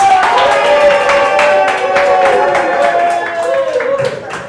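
An audience at a launch party claps and cheers in a room, with a voice talking loudly over the applause, which fades toward the end.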